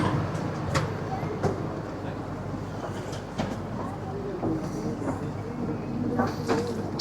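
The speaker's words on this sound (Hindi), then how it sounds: "इंटरनल ट्रेन्स होता है जो आपको एक गेट से दूसरे गेट पे लेके जाता है" An airport's internal train carries passengers between gates, a low rumbling ride with clicks and rattles of the carriage and murmuring voices nearby.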